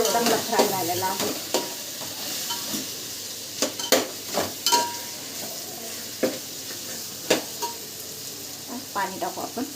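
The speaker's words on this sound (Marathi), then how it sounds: "मसाला चांगला फ्राय झालेला आहे." Masala for chicken biryani frying in a pot and stirred with a spoon: a continuous close sizzle broken by repeated loud scraping strokes and clinks against the metal.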